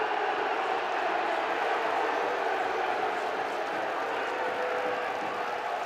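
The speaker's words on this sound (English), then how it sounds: "Not happy with that call, the partisan home crowd." A partisan home rugby league crowd at a York Knights match reacts unhappily to a referee's penalty call, a broad sustained roar of voices across the stands, steady and dense throughout.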